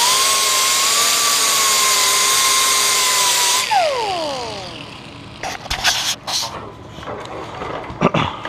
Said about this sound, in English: So I'm gonna get a grinder and clean up the edges.